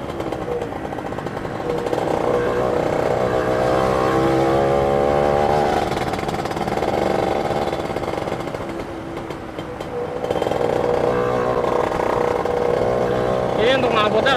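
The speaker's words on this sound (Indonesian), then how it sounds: "Ini untuk knalpotnya ada beda sih suaranya ya" Yamaha F1Z-R two-stroke motorcycle with an old, carbon-clogged muffler, its exhaust droning and revving steadily at close range, dipping briefly before rising again, with talk over it.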